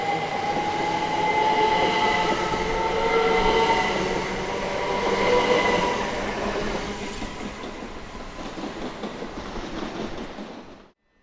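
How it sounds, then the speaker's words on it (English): A passenger train from Dover to London Charing Cross runs through Tonbridge station, a steady loud rumble of wheels and carriages with faint clickety-clack and wheel squeal, fading out at the end with no voices. "Here we have the 11 o'clock from Dover to London Charing Cross."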